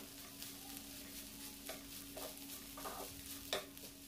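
Samosa stuffing roasting on high flame in a pan, a faint steady sizzle broken by several soft scrapes of stirring, with a low hum beneath.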